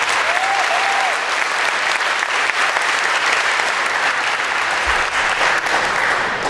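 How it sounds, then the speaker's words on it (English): An honors day audience in a hall gives a big, steady round of applause, dense continuous clapping that stays loud and even throughout, with a brief voice at the start. "Give Ms. Dawson a big round of applause"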